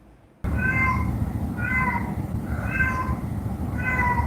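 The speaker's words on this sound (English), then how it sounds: "Look at this neglected, in pain, screaming cat" A neglected cat in pain lets out four long, loud, drawn-out meows at steady intervals over a constant low background hum.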